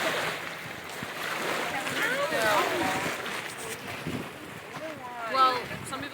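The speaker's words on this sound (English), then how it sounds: "Let's move away from the waves because I can't even hear myself." Ocean waves wash and crash onto a beach at a Delta Day outing, a steady rushing surf with wind buffeting the microphone, while several people talk nearby over the noise.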